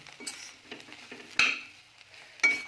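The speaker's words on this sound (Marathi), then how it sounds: "हे बघा आपण कारलं परतून घेणार आहोत" Bitter gourd sautéed in a pan, with soft scraping stirs and a few sharper clinks of a utensil against the pan over a faint sizzle, two louder knocks standing out.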